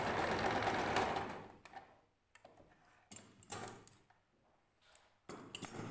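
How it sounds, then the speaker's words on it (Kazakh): A sewing machine runs in a steady burst as it stitches the straight edge of a long dress, then stops and restarts in shorter bursts amid handling clicks, close and fairly loud. "Міне түзу жағын тігіп аламыз."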